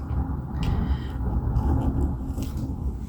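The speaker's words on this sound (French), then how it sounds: "Il y a beaucoup de vent, on a énormément de vent." Strong wind blows through a tree near a window, giving a steady, low, rumbling roar with soft gusting swells. It stays constant throughout, with no voices.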